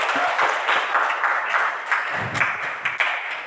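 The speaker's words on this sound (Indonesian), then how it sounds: "Ya, tepuk tangan untuk Ferdi." Classroom applause for a student, a steady patter of many hands clapping at moderate loudness with a few sharper individual claps standing out near the end.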